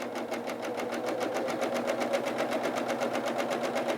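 A Husqvarna Viking Huskylock S-25 serger stitches a curve in fabric, its rapid, even mechanical chatter running steadily and fairly quietly with no voices.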